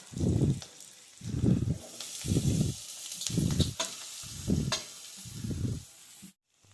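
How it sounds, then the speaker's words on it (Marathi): Poha (flattened rice) roasts in a pan, with six evenly spaced rustling, scraping stir strokes over a soft, steady sizzle, close and quiet, ending abruptly. "हलवून घ्यायचं असं. भाजून घेताना पोहे टाकू."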